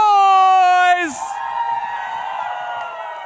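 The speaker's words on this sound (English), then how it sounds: "if you are in the audience right now and you're cheering for Starlight, make some noise!" Crowd at a charity gaming tournament grand final cheering and whooping for a team, a loud mass of voices rising after a short sustained tone ends.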